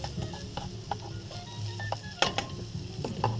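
Onions frying in a pan, a steady close sizzle broken by frequent sharp spatula clicks and scrapes against the metal, no talk over it.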